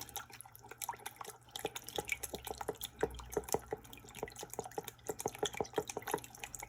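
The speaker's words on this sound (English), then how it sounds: "Then we'll mix up the cornstarch with our water." Rapid light ticking and clinking of a utensil stirring cornstarch into water in a small container, steady and close, with faint watery dripping textures.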